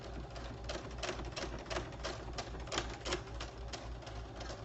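A sewing machine runs slowly, stitching with its presser foot down: a steady, evenly spaced ticking of the needle, about two stitches a second, over a low motor hum, heard up close with no talking.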